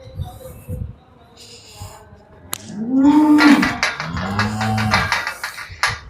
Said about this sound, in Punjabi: ਹੋਰ ਵੀ ਗਾਵਾਂ ਹੈਗੀਆਂ ਇਸ ਸਾਈਡ ਤੇ